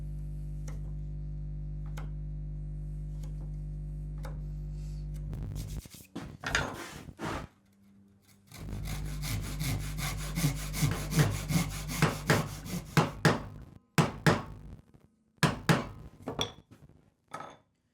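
A hand saw cuts a wooden housing joint, starting with a few sharp knocks and scrapes, then settling into a long run of rhythmic back-and-forth strokes, up close and fairly loud, ending in separate clacks.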